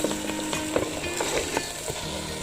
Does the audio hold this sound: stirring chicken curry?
yes